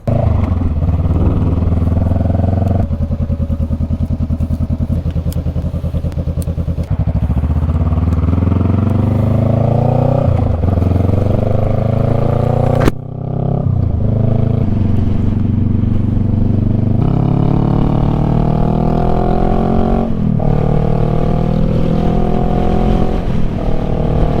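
A motorcycle ridden on the road for delivery work, with a loud, steady engine drone throughout as it shifts and revs, a brief drop in sound near the middle, and no talking.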